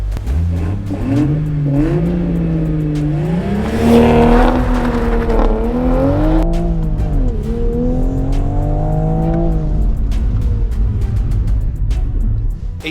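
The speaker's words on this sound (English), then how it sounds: "we are doing a 0 to 100 and then a 100 to 0." A manual car pulls from a standstill, its engine revving up through several gear changes with loud rising and falling pitch, then easing off as it slows to a stop, recorded close from inside the car.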